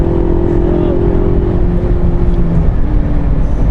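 A 2019 Ford Ranger Lariat pickup's engine pulls hard as the truck accelerates, a steady low rumble with rising tonal whine running under conversation throughout.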